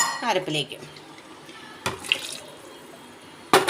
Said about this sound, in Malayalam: ഇനി നമുക്ക് ആവശ്യത്തിനനുസരിച്ച് വെള്ളം ചേർത്ത് കൊടുക്കുക.